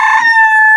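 A rooster crows once, loud and close, a brief sustained call held steady before cutting off.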